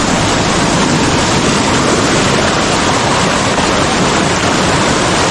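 Strong floodwater rushes loudly and steadily close by during heavy rain, making a continuous dense roar with no voices.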